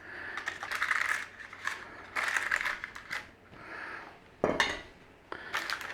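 Metal baking tray holding a cheesy Italian sausage pastry wreath slid into an oven, with close clattering, scraping metal and a sharp knock as the door and rack are handled.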